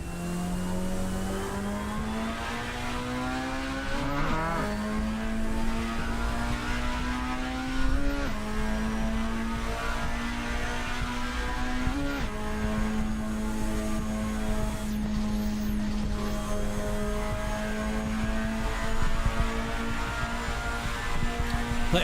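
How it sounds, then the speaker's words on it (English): Car engine note held at steady revs, with occasional shifts and revving, from a car drifting in the racing game Assetto Corsa. The sound is continuous and fairly loud, with no talk over it. "I think somebody's drifting up here."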